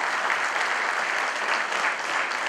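Steady applause from a reunion audience in Chicago, a dense even wash of many hands clapping at moderate loudness for the event organisers, sustained without a break.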